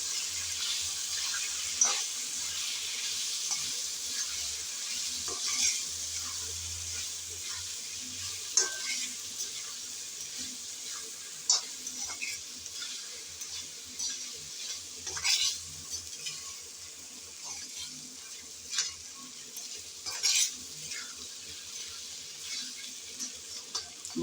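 Cumin powder and salt sizzle faintly as they are stirred and fried in a pan for a pumpkin dish, with a soft steady hiss broken by occasional scrapes and clicks of the spoon.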